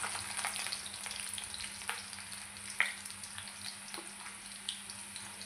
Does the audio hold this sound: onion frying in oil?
yes